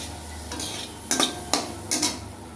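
A spoon scrapes and stirs semolina in a pan for suji pulao after a little water is added, giving three or four brief close scraping strokes over a soft sizzle.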